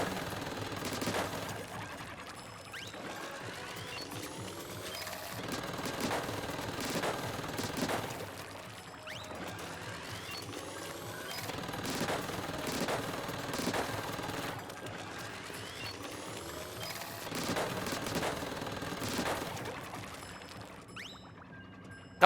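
Rapid bursts of weapon fire in Splatoon 3 during a Splatfest match, repeated sputtering volleys with short gaps between them over a steady bed of game sound, moderately loud with no voices.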